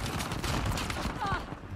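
Gunfire from shooting in the video game Uncharted The Lost Legacy, a dense rapid burst of game shots and impacts running throughout, layered with game sound effects and voices.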